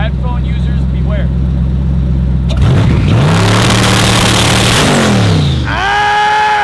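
A car engine idling with a steady low hum, then revved hard several times in loud rising and falling sweeps, close to the listener.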